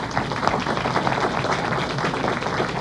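Audience at a book presentation on global aging gives a brief round of applause for a doctor, dense moderately loud clapping lasting a few seconds.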